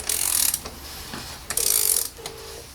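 A ratchet torque wrench tightens an oil filter cover on a BMW E87 116i, giving two quick bursts of close metallic clicking separated by a short pause, with no talk.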